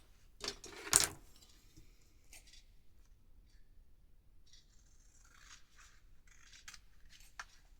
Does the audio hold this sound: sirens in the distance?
no